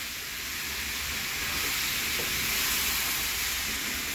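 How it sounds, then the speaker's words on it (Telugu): Poha (flattened rice) fries with turmeric and tomatoes in a pan for attukulu upma, giving a steady, low sizzling hiss with no one talking. "ఇప్పుడు అటుకులు కలుపుతామండి"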